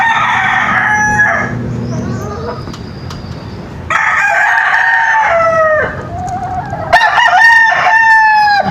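A PSG gamecock rooster crows loudly and close in a backyard, giving several long drawn-out calls in succession with brief gaps between them.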